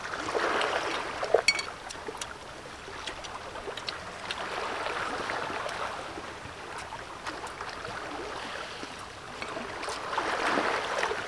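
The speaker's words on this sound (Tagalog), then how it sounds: "Tapos narinig mo yung hampas ng alon." Soft, distant sea waves wash ashore on a beach in slow rising and falling swells, with faint splashing and trickling water and no voices.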